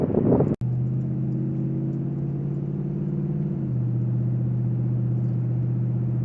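A truck drives down a highway in the rain, its engine giving a steady, close droning hum that drops slightly in pitch partway through, after a brief sharp click near the start.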